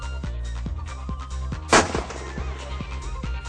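A single sharp gunshot cracks out once, loud and close, at a world-class firing range in an all-adventure eco park resort in Sarangani, set against steady background music with a regular beat.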